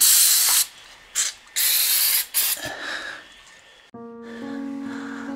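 Waxoyl sprays through a spout onto a motorhome chassis in several loud close hissing bursts, followed by a steadier tonal hiss as the spraying continues.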